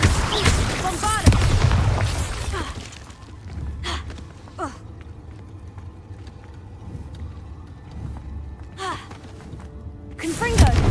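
Bombarda blasting spells explode in a cave in Hogwarts Legacy, with deep heavy booms at the start and end and a couple of smaller blasts between, among spell-casting effects and character voices.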